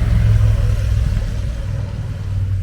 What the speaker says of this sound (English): You think they would make a silent car by now, wouldn't you?